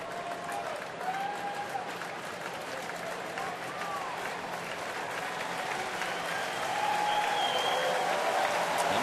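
A baseball stadium crowd cheers and claps for Tigers pitcher Verlander at Detroit, a steady broad roar with scattered whistles and shouts that swells slightly toward the end.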